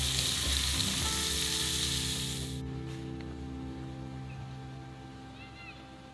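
Steak, zucchini and yellow squash fry in a pan with a loud, close sizzle that cuts off after a couple of seconds, leaving a quiet hum.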